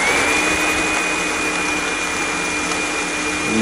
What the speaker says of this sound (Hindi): हम इसको हम कर देंगे अच्छे से ब्लेंड